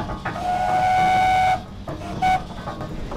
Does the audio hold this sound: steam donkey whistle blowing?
yes